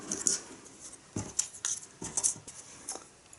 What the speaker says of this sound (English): It's easier if I just shuffle them on the table.